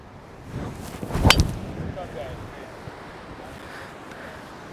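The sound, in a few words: strong gusty wind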